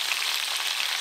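Potatoes and pointed gourd fry in oil, giving a steady, close, even sizzling hiss with no pauses and no voices.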